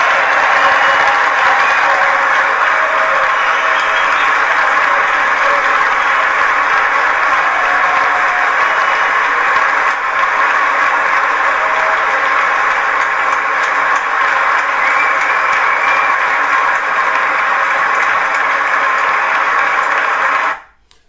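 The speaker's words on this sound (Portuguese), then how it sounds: "quando o cara é aplaudido como um herói" Sustained, loud applause from a legislative audience honoring Venezuelan opposition leader Juan Guaidó, a dense steady roar of clapping lasting about twenty seconds before cutting off abruptly.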